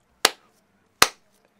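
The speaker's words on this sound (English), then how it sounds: "Slow clap." Two sharp, isolated hand claps spaced nearly a second apart, a slow deliberate clap, close and crisp against silence.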